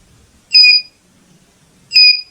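An IoT buzzer actuator, switched back on, sounds two loud, shrill electronic beeps, each lasting about a third of a second, about a second and a half apart, with quiet between and no talk.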